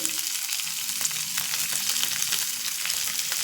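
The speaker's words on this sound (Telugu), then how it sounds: "పప్పులు వేగినాయి కదా ఇప్పుడు మనం అల్లము పచ్చిమిర్చి వేద్దాము అలాగే కరివేపాకు ఎండుమిర్చి" Lentils, ginger and green chillies sizzle steadily in hot tempering oil for an orange rice dish, a dense, close crackling hiss with no talking.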